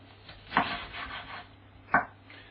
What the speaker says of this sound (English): We're going to cut it down the middle